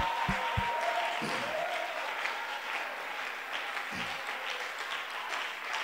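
A church congregation at a French-language service applauds the Lord in a sustained, dense wash of clapping, with a brief voice at the start before the steady applause continues to the end.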